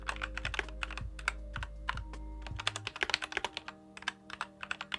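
Typing on an Ajazz AK871 mechanical keyboard: a steady run of close keystroke clicks under a low steady hum, getting sharper and more irregular toward the end.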